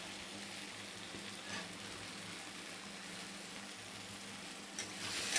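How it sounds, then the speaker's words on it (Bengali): Tomatoes and green chillies fry in oil in a pan for a tadka, giving a faint, steady, even sizzle throughout with a slight swell near the end. "টমেটোটাকে এখন ভেজে নেব।"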